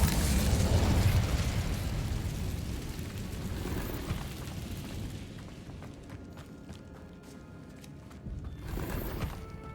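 Incendio fire spell cast in Hogwarts Legacy, a loud fiery burst and rumbling blast up front that fades over several seconds, followed by scattered crackles and a second flare near the end.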